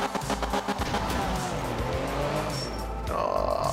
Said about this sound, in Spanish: ya se nota la grava, que es mucho más difícil de controlar el coche.